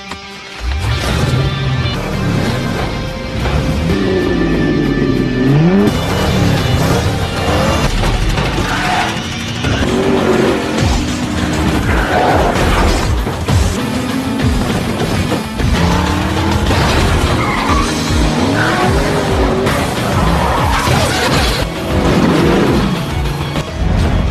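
Race cars in a Death Race prison death-match scene roar and accelerate loudly and continuously, with rising and falling engine whines, crashes and booming impacts mixed in, all under dense film soundtrack.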